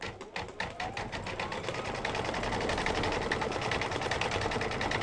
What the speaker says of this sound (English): So now all you do is stitch it.